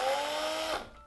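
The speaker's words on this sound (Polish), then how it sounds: "Najprościej jest wziąć do tego wkrętarkę z wiertłem i" A cordless drill with a bit drills a hole in a piece of candle, a steady high motor whine for under a second that then winds down and stops.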